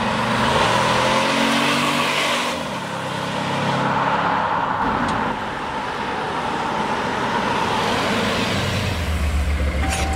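Volvo XC60 fitted with a Heico Sportiv sound exhaust driving, a steady loud engine and road rumble with shifts in pitch as it accelerates, no talk.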